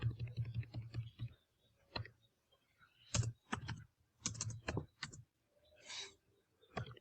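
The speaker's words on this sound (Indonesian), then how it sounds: "Kemudian kita ketikkan di sini adalah blogger." Computer keyboard typing in short clustered bursts of clicks with pauses between, close and moderately quiet, entering a web address, with no talking.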